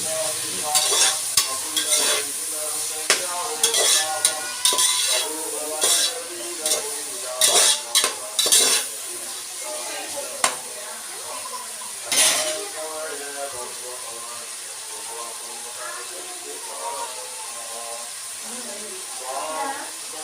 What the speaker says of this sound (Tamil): வெங்காயம் நல்லா பொன்னிறமாக வதங்கி வரட்டும்